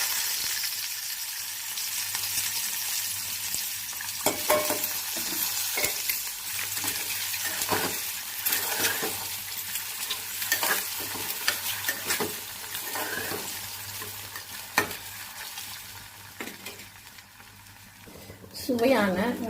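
Two halved boiled eggs fry in hot oil with salt and pepper, a steady crackling sizzle broken by occasional scrapes and light clinks of a utensil against the pan.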